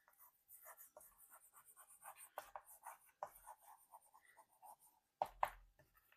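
Pen writing out notes on paper during a Class 11 biology lecture on cell membranes, a close run of short scratchy strokes and rubs with brief pauses between words.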